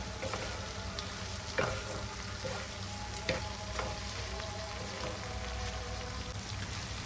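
Dried red chillies sautéing in a pan make a steady, close frying hiss that holds throughout, with a few brief stirring scrapes standing out.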